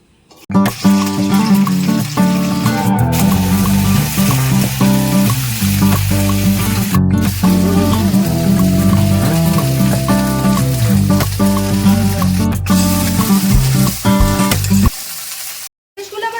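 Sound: okra frying in hot mustard oil in a kadai

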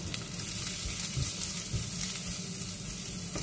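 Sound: sautéing onions in a pan

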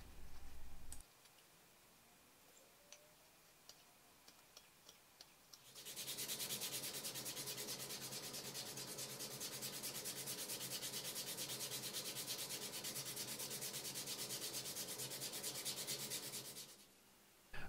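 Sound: belt sander smoothing a carved swimbait

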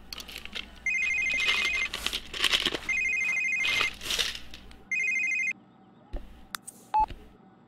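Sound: telephone ringing in a video game

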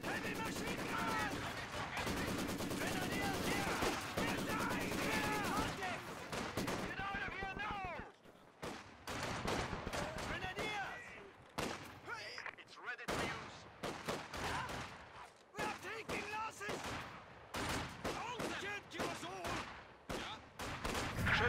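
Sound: heavy machine gun fire in video game Company of Heroes 2

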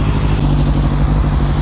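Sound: Kawasaki Z1000 SX motorcycle engine running while warming up

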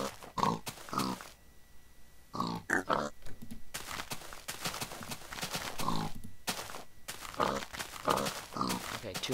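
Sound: pigs oinking in Minecraft video game

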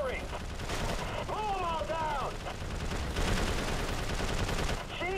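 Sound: gunfire from an unlimited-ammo gun in the video game Prototype 2

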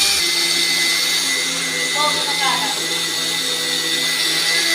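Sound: mixer grinder grinding sugar into powder

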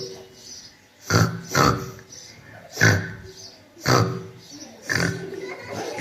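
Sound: child imitating two pigs fighting

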